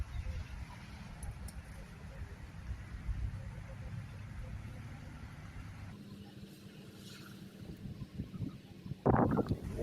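Wind gusting outdoors at a Thai chula kite flying session, a steady low rumble of buffeting across the microphone with a sharp rattling burst near the end.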